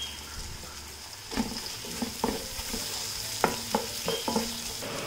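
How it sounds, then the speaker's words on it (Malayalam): Biryani masala with a half teaspoon of turmeric sizzles steadily in a pan while a spoon scrapes and stirs it in several distinct strokes, close and moderately loud. "നന്നായിട്ട് ഇളക്കി കൊടുക്കാം."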